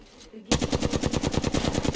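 Rapid automatic gunfire in a video game: after a half-second of near silence, a loud, close burst of evenly spaced shots rattles on steadily to the end.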